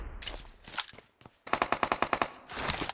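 Rapid automatic gunfire from a Vector submachine gun in a video game rattles in a fast burst of sharp shots, preceded by scattered single bangs and followed by more firing, loud and close.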